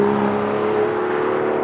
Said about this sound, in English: The Aston is powered by an old school thumper of a 6-litre V12 that produces 565 of the best sounding bhp you will ever listen to.